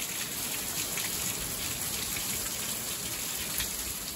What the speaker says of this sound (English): Lots and lots of rain.